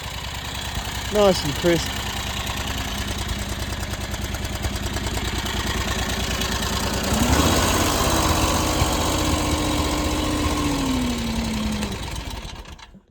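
A mini skid steer engine cranks, catches and settles into a steady, fairly loud idle with a slight rise in pitch partway through, while a person talks briefly over it.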